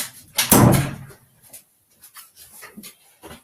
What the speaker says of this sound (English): I'm just closing the door.